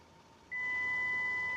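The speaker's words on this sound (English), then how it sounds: "it makes that gosh awful beeping sound" A 2019 Kia Sedona LX+ minivan sounds a loud, steady high-pitched electronic warning tone because its key is outside the vehicle. The tone starts abruptly partway in and holds continuously over a faint background hum.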